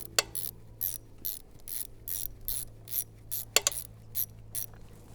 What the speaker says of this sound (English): Grab your tool for your size 10 socket right here, and you can just tighten it back up